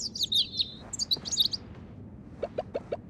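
Birds chirp in a forest east of town in the Heartopia video game, with high quick tweeting phrases early on and then a short run of sharper, lower repeated calls, clear and close over a soft background.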